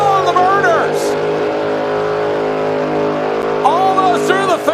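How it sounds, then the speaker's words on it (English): Cleetus's race car holds a long, loud, steady engine drone through a quarter-mile burnout at a Christmas tree drag race, the tone sustained at high revs while an announcer talks over it. "And Cleetus completed a full quarter-mile burnout"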